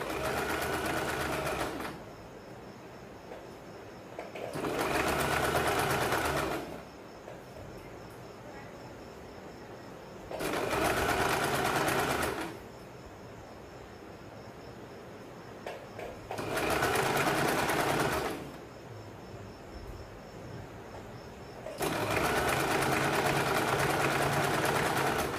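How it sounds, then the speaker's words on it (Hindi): A sewing machine runs double stitching on a blouse drawstring in four loud bursts of a few seconds each, separated by quieter pauses. "ये देखिए यहाँ पे हम डबल सिलाई लगाते हैं।"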